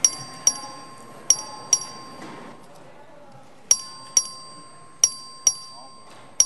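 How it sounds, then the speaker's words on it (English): Bell in a state House of Representatives chamber rung for a record vote on a bill's third reading, sounding as a series of sharp, ringing dings at irregular intervals, with a pause midway and faint room murmur underneath. "The clerk will ring the bell."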